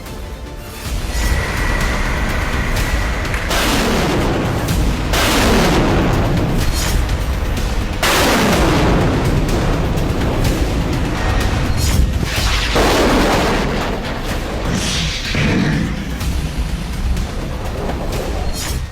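Missile strikes and explosions in a news report on Russian cruise missile attacks on Kyiv, a series of heavy booming blasts, each swelling and fading into rumble, loud and continuous with no talk over them.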